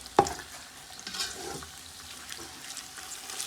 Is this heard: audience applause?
no